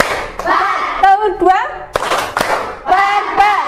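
Elementary school children in a classroom doing a rhythmic clapping chant, sharp bursts of hand claps in quick groups alternating with a loud, sing-song lead voice calling out between the claps.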